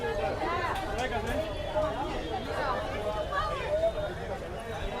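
Dense crowd chatter fills the packed grounds of Mahakaleshwar temple in Ujjain, many overlapping voices close by, with one nearer voice speaking over the busy murmur.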